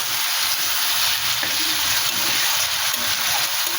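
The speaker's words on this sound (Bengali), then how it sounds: "মশলা, চিংড়ি মাছ, আলু সব একসঙ্গে ভাজা হয়ে গেছে, তেল বেরিয়ে এসছে।" Prawns, potatoes and spices frying together in oil for a pointed gourd and prawn dish, giving a steady, dense hiss that holds evenly from start to finish with no voices.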